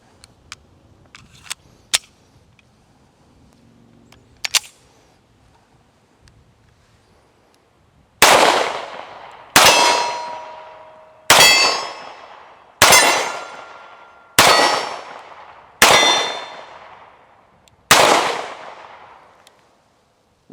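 Tisas 1911A1 .45 pistol fires seven loud, sharp shots at steel targets, evenly spaced about a second and a half apart, each with a ringing decay, after some quiet handling clicks.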